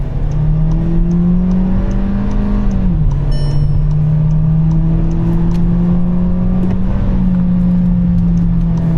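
A 2026 Škoda Kushaq's 1.5 TSI engine revs hard under kickdown acceleration from about 30 km/h, its droning pitch dipping briefly as the gearbox drops two gears, then climbing steadily and loudly again.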